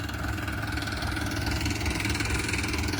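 A JCB excavator engine idles close by, a low continuous rumble with an even mechanical throb that holds constant throughout, with no voices.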